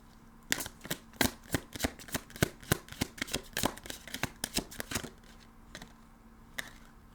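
Oracle cards are shuffled for a tarot reading, a rapid run of crisp, close papery riffles and slaps, then a few slower taps as the shuffling eases off.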